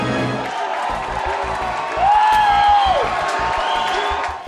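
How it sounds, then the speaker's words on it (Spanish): A large crowd applauds and cheers for Donald Trump at his 2016 presidential election victory event, a steady loud roar of clapping and shouting with a rising whoop partway through. "Entre aplausos y gritos"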